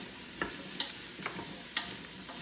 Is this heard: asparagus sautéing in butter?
yes